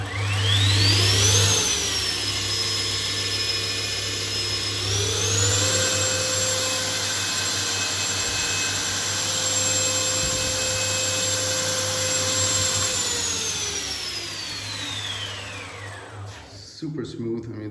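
Northridge Tool knife-making belt grinder with ratchet belt tensioning spins up to near full throttle, a loud steady whine and hum that holds level, then winds down and stops near the end.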